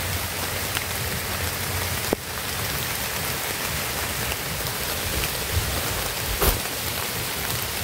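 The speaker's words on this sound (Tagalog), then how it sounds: "Yung lumakas ng ulan." Heavy rain pours down in a dense, steady hiss that fills the whole scene, with a couple of sharp knocks or drips standing out briefly and no voices.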